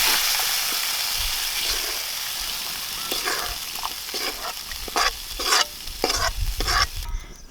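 Roasted masala stirred into simmering village-style chicken rassa, with a constant sizzle under repeated scraping strokes of a spoon against the pot, close and loud.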